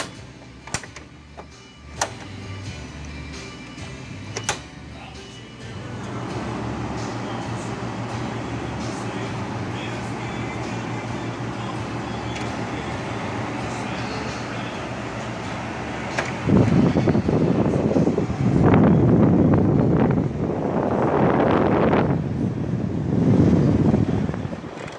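A 1969 Carrier Cosmopolitan 8,700 BTU window air conditioner running with its fan, a steady whooshing hum and some knocks early on, then louder surging airflow in the last stretch.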